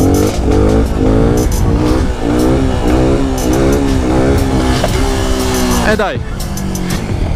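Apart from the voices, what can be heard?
motorcycle accelerating, starting in second gear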